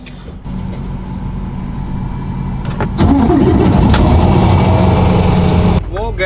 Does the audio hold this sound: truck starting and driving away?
yes